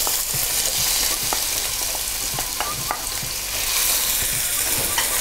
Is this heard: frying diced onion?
yes